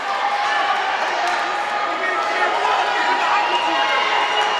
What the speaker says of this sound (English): the Rivier and Daniel Webster crowd's going at it a little bit